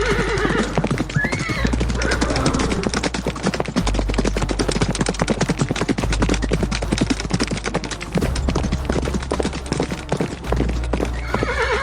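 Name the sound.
horses neighing and galloping away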